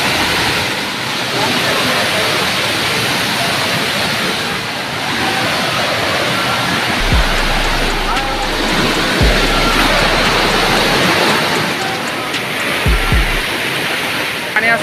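Heavy rushing water pours steadily at a monsoon waterfall, a loud, dense and continuous roar throughout, with occasional low bumps and a few faint voices underneath.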